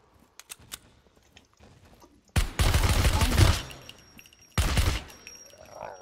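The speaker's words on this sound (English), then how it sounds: "I was shooting him in the chest" Bursts of gunfire in the survival video game SCUM, two loud, dense volleys of rapid shots, the first lasting about a second and the second shorter, with quieter scattered clicks and shuffling before them.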